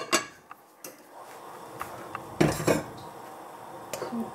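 Drained pasta goes back into a cooking pot with vegetables waiting, giving a few scattered metallic clanks and scrapes of pot and utensil, with a busier cluster of clatter midway, fairly quiet overall.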